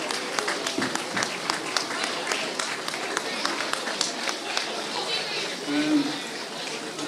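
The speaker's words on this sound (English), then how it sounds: "I just want to give a big round of applause to Pearses." After a hurling match, a crowd gives a round of applause to the Padraig Pearses team as steady, dense clapping that goes on throughout, with voices mixed in.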